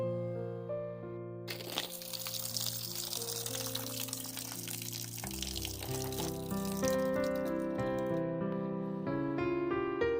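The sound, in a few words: water draining from tumbler barrels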